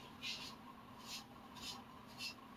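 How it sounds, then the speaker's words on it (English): A Minamoto sujihiki knife blade being scrubbed with steel wool and Bar Keepers Friend, faint rhythmic rasping strokes repeating about four times in a steady back-and-forth. "Getting close to the end of the steel wool and barkeeper's friend phase here."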